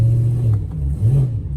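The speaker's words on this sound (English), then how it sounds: "As you can see, comfortably changing gear." BMW M3 E92 with paddle shifters, engine note rising and dipping as it changes gear, a close mid-pitched engine drone with a brief rev swell, no talking.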